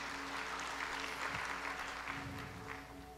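A congregation applauds during an online worship service at church, a dense wash of clapping from many people that holds steady and then eases slightly toward the end.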